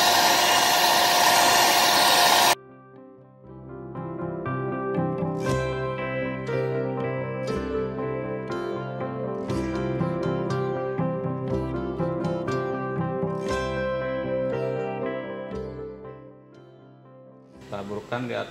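An electric mixer whips instant coffee, sugar and water into a frothy topping, a loud, steady, close whirring that lasts only a couple of seconds before music takes over.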